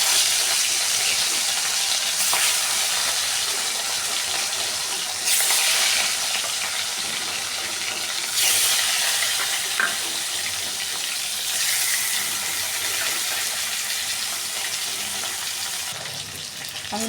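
Snakehead (shol) fish sizzling in hot oil in a wok, a steady loud crackling hiss that runs without a break and swells at moments, with no talk.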